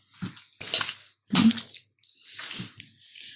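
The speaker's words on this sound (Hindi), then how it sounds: "चलिए इसे हाथ की हेल्प से हम अच्छे से मिक्स कर लेते हैं।" Marinated goat heart squished and mixed by hand, with wet squelching bursts in a short irregular series, close and fairly loud, separated by brief pauses.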